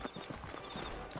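Horse hooves clip-clopping at a walk in the video game Red Dead Redemption, a soft, steady rhythm of hoofbeats under a continuous background wash, fairly faint and brief.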